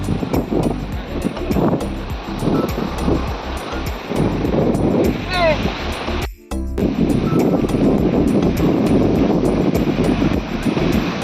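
Ocean waves and wind at a Goa beach form a steady, loud roar of surf with gusty microphone rumble, and a brief dropout in the middle.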